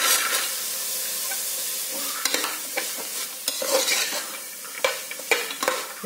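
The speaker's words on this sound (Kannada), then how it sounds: "ಈಗ ಇದಕ್ಕೆ ಕ್ಯಾರೆಟ್, ಬೀನ್ಸ್ ಇದು ಕೂಡ ಇದರಲ್ಲಿ ಸ್ವಲ್ಪ ಫ್ರೈ ಆಗಿದೆ" Carrots, beans and peas frying in a pan give a soft, continuous sizzle, broken by scattered scraping clicks from stirring, close and alone.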